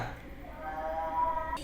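A cat meows faintly in a game soundtrack, a drawn-out tonal cry under low background hum, ending in a sudden louder burst.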